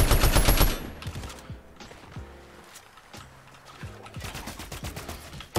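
Automatic assault rifle fire in Fortnite, delivered in short rattling bursts with a loud volley at the start and another near the end, separated by quieter stretches of game sound.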